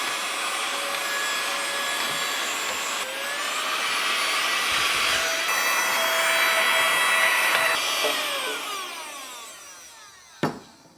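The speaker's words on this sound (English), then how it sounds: "And lastly, clean up with a vacuum." Small food-safe vacuum cleaner running steadily while cleaning up coffee gear, a close, whining motor hum whose pitch shifts slightly as it moves across surfaces, ending with a brief clunk and no talking.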